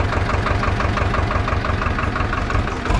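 A tractor engine idles close by in a steady, rapid low chugging throb that holds even and loud throughout, with no voices.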